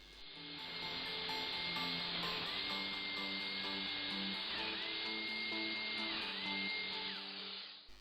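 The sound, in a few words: cutting mortises in wardrobe panels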